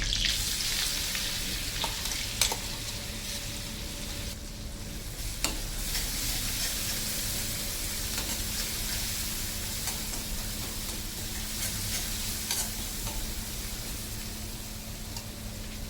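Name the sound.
ground spice paste added to pan, sizzling and stirring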